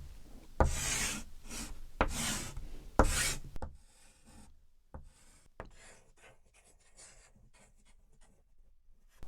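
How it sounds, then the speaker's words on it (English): Marker or chalk strokes scratching across a board during a talk on the nervous system, with a few loud bursts of rubbing at the start followed by lighter, scattered writing sounds. "So let's write it down."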